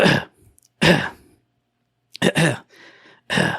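A few short, stifled cough-like bursts, separated by brief pauses, close and fairly loud; a voice imitating a suppressed cough.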